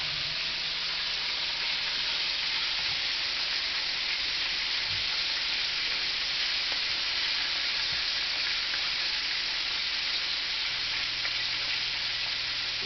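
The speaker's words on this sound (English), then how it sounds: "What we're going to do now is just let it fry." Steady, dense sizzling of chicken frying in hot oil, a continuous close crackle and hiss with no talking.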